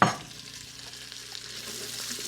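Bacon and green peppers fry in a gas-powered Instant Pot, a soft, even sizzle that follows a brief clatter at the start, with no voices.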